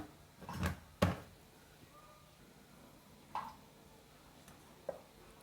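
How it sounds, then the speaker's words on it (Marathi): A lid is fitted onto a mixer grinder jar: two close, sharp plastic clunks, then a pause and a couple of quieter clicks, with no talking. "झाकण लावून घेऊया"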